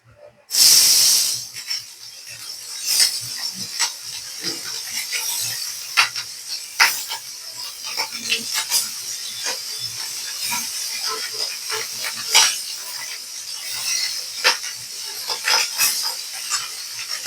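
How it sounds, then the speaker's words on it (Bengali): Tengra fish fry in hot oil with green chillies and turmeric, a loud, steady hiss and crackle with sharp sputtering pops throughout, close up, after a sudden burst of sizzle at the start. "শুধু কাঁচা মরিচ দিয়ে ট্যাংরা মাছ ভাজা হচ্ছে"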